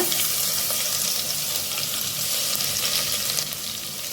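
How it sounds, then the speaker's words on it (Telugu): Garlic sizzles steadily in hot oil with mustard seeds, cumin, dried red chillies and curry leaves for a Telugu palak moong dal, a dense continuous crackle at close range with no voices. "ఎల్లిపాయ ఇలా వేగితేనే పప్పుకు మంచి టేస్ట్ వస్తుందండి"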